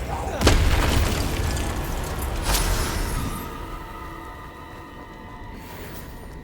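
Explosion spell blasting undead Inferi in the Hogwarts Legacy video game: a loud booming burst with a sharp crack that rolls into a rumbling decay and fades under lingering ambient tones.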